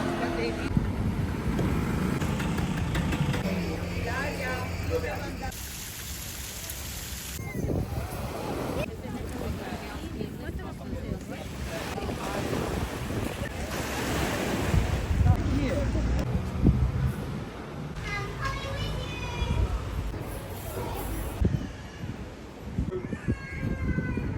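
Ferry crossing the sea toward Portofino, with continuous engine rumble, wind buffeting the microphone and water wash, joined by people talking and other background voices.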